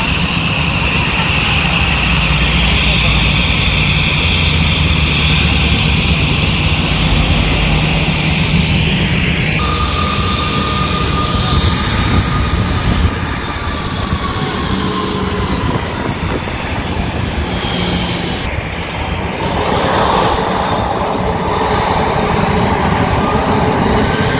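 An airplane at an airport gives a loud, continuous roar of engine and rumble that shifts in pitch and texture over about twenty-four seconds, with faint background voices.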